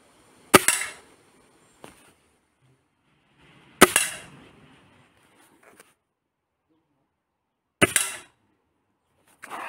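A Gamo Maxxim IGT .177 nitro piston air rifle fires three sharp, loud shots a few seconds apart, each a crisp crack with a short ringing tail and quiet gaps between.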